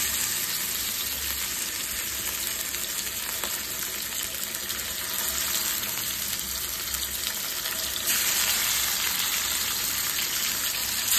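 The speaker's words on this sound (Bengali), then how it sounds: "এখানে আমাদের তেল ফাটা হয়ে গেছে, এবার মাছগুলোকে দিয়ে দেবো।" Fish dropped into hot oil in a pan, a continuous broad crackling sizzle that swells slightly toward the end, close and fairly loud with no talking.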